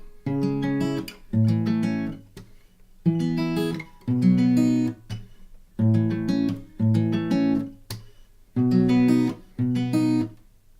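An acoustic guitar picks out the repeating arpeggiated chords of the pre-chorus of a song in short phrases separated by brief pauses, clear and close with no voices.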